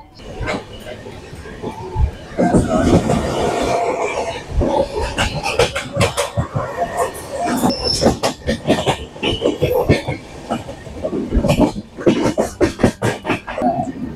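Shatabdi Express (12042 NJP–Howrah) running on rails, with a steady rumble and repeated clacking under spoken conversation throughout, fairly loud and near.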